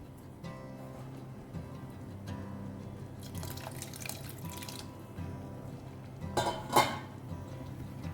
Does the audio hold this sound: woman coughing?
no